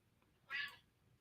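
A house cat gives one short, clear meow at close range, rising out of near silence and fading quickly.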